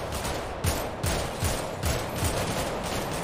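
Rapid bursts of gunfire in GTA RP during a clash with the farm gang and police near a golf course, several sharp shots repeating roughly every half second, loud and close with a busy background.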